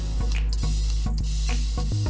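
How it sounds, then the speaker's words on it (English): A hand-pumped spray bottle mists water across a board in a run of about eight quick, close hissing squirts at a fairly even rhythm. "I'm gonna spray it really well all the way across"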